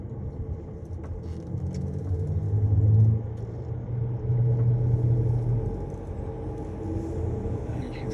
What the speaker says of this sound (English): A lot of traffic this morning, everybody's starting to go to work.